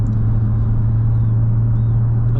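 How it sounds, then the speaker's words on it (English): A 2016 Porsche 911 Turbo cruises with a steady low exhaust drone and rumble from the cabin, a faint turbo whine riding above it, continuous and even throughout without talk. "You hear the mixture of the turbo spooling, the exhaust, a little bit of that back burble with the exhaust system."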